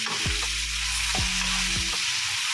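Chopsuey vegetables stirred in a hot frying pan, three scraping strokes against a steady sizzle of frying, close and alone without any talk.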